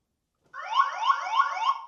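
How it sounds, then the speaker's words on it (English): Alarm system on an Engwe EP-2 3.0 electric bike sounds after brief silence: a loud electronic chirp of rising, warbling tones repeated about four times in a quick, even rhythm, heard alone. "You hear that little doop doop. That means the alarm system's set."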